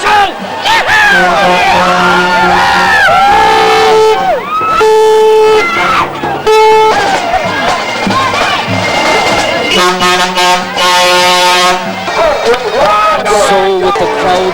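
A huge crowd of thousands in Castleisland at the 1993 county final, Laune Rangers against Annascaul, roars, chants and sings loudly and continuously, with voices rising in waves.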